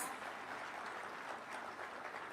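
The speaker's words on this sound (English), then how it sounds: "Let's give them a better round of applause." Sustained applause from a large audience of county assembly speakers and officials at a devolution event in Eldoret, a dense steady clapping wash lasting the whole moment with no voices on top.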